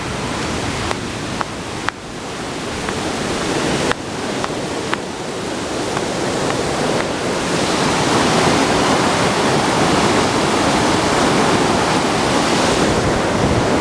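River water rushing steadily downhill, loud and continuous broadband flow close by with a few faint clicks and knocks early on, no talking.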